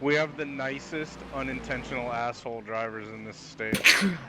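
A single sharp sneeze bursts out near the end, loud and close, following steady conversational talk among sim racers during an iRacing 24 Hours of Daytona endurance session.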